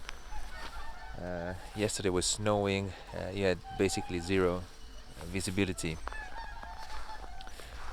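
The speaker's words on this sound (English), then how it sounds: "of course you can hear the birds crying, so there's lots of birds in the water." Water birds on Lake Kussharo in winter Hokkaido honk and cry repeatedly in loud, goose-like calls, while someone talks in the foreground on a calm, sunny day.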